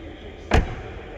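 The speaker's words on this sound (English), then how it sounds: "the windows drop upon opening" A frameless door on a 2021 Toyota GR Yaris opens with one short, close thud as the window drops slightly, with quiet background before and after.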